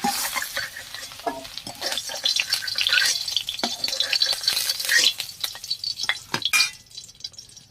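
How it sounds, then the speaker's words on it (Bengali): Potato pieces sizzling in hot oil in a pan while a spatula stirs and scrapes, busy crackling frying with clinks, easing off near the end as the potatoes are lifted out. "আলুগুলো আমার ভাজা হয়ে গেছে তুলে নেবো"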